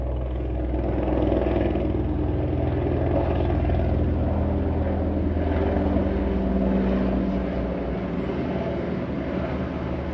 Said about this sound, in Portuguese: Tem um helicóptero passando aqui que vai me atrapalhar um pouquinho.